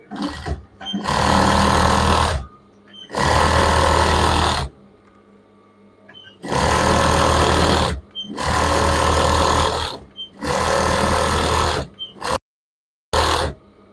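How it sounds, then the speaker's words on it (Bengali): A sewing machine stitches children's pajama pants with a half-inch seam in four long running bursts, loud and close, separated by short pauses with faint handling sounds between. "এখন আমি হাফ ইঞ্চিতে সেলাই করে নিব"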